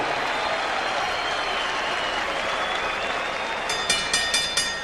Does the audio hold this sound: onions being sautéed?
no